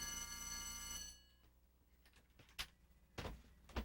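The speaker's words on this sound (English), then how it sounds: "testing the general and high water alarms" A steady electronic high water alarm aboard a Coast Guard vessel rings loudly for about a second with a harmonic tone during a drill, then cuts off, followed by a few sharp knocks and bumps.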